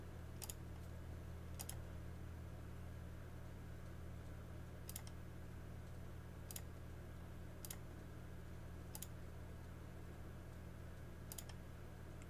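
Mouse clicks from play in the Aim Lab aim-training game: sparse, sharp single clicks at irregular intervals, faint over a steady low hum.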